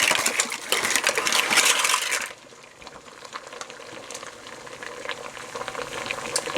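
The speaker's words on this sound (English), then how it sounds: "Once you've brought your pot of water to a boil, we're going to add our shells." Pasta shells pour into a pot of boiling water: a loud rattling clatter for about two seconds, then a quieter steady rolling boil with small bubbling pops.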